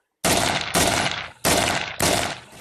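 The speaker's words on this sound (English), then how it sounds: "Okay, covering fire." Four loud, close gunshot bursts in battle, fired as covering fire on a front line, each a sharp crack trailing off before the next at a roughly even pace.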